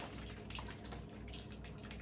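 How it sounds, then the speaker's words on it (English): Water trickles and drips steadily out of small holes poked in the bottoms of Ziploc bags. The sound is faint and continuous with soft splashes, and no one speaks. "The water's coming out."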